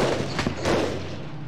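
Gunfire from weapons in the war shooter Medal of Honor Underground, a brief burst of a few quick shots, fairly faint, over a low game background.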